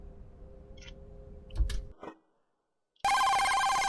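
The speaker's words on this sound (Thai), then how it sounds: "โทรศัพท์ดัง" A telephone rings loudly and steadily at midnight after a few faint thumps and a brief pause, the electronic bell tone clear and close.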